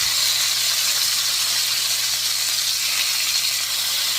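Close, continuous sizzle of pork frying in a pan: a loud, even hiss with fine crackle over a faint low hum, with no voices.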